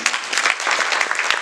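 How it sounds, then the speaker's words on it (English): An audience at a private networking event claps in a steady round of applause, dense and close, filling the whole stretch without talk. "just a quick round of applause"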